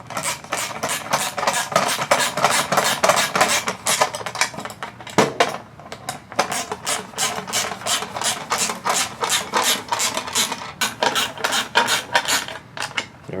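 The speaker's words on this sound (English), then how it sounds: "take your 10mm socket or wrench" Carbon fiber parts being fastened on a 2022-2026 Cadillac CT4-V Blackwing, screws turned with a 10mm socket wrench; a dense, steady run of close ratcheting clicks and scraping rasps fills the whole stretch, with one brief pause midway.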